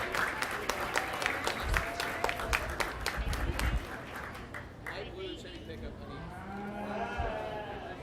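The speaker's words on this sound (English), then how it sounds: "Let's give these kids a big round of applause." Crowd clapping for several seconds at a county fair sheep show, then fading out as cattle moo and low voices murmur in the background.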